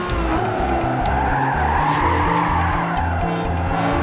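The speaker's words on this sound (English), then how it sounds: "You see how I slammed on my brakes and fourth and downshifted and drifted around it." Tires screech and skid as a car drifts through a turn at Grand Valley Speedway in Gran Turismo 5 on PS3, over a steady, loud engine drone, continuous throughout.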